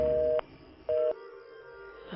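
A landline handset being dialed indoors, with two short steady touch-tone beeps separated by a brief pause and faint room noise after.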